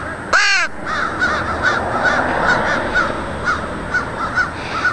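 Crows caw outdoors in a series of about eight short, hoarse calls spaced at a steady pace, with one sharp, louder call near the start over a constant background hiss.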